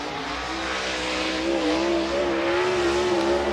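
Late model dirt race car number 10 rolls onto the Cedar County Speedway dirt track, its engine holding a steady, close, fairly loud drone with a slight rise in pitch and no talking.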